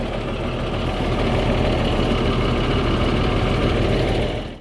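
A bus with a 1521 BD engine idles at a bus terminal, a steady, loud diesel rumble with a dense low throb that continues evenly throughout before cutting off at the end.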